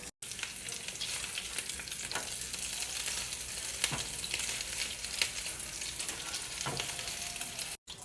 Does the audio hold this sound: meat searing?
yes